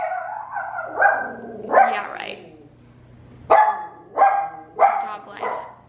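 A dog barks several times, sharp and close, with a short run of barks followed by a pause and then three more in quick succession, while a person briefly talks nearby.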